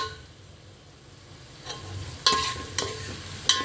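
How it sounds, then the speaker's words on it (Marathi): A coarse paste of ginger, garlic, green chili and coriander fries in oil for chicken biryani, giving a low sizzle with a few sharp scraping stirs near the end. "थोडंसं तेलात भाजू द्यायचं याला।"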